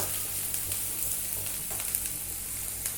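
Onion and cabbage fry in a small amount of oil in a pan for a cabbage omelette, giving a steady, close sizzle with faint crackles throughout.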